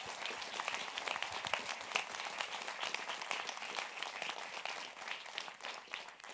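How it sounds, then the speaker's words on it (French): A studio audience applauds the actors with a dense, steady patter of clapping that holds for several seconds, moderately distant and fairly quiet, with no voices on top. "on peut les applaudir."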